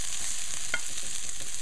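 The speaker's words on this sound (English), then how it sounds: "the oil is hot, so I'm gonna throw the seasoning." Seasoning thrown into hot oil for a beef provision soup gives a loud, continuous close-up sizzle with no talking.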